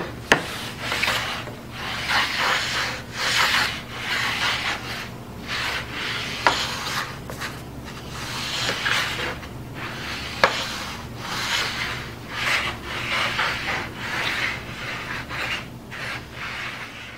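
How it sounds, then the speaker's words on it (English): A wooden plank scraped back and forth over unfinished engineered white oak flooring in a steady rasping rhythm, with occasional sharp clicks as it crosses end and side joint seams. "I simply took a piece of plank and ran it over several end and side joint seams"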